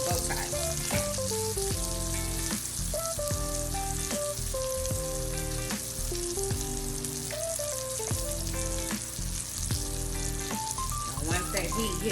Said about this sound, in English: now I have it on high because I want it to like sear like perfectly on both sides.